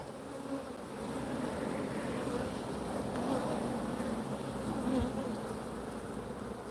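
Honey bees hum at an open hive during an inspection, a soft, dense, continuous buzz that stays steady for the whole stretch with no talking over it.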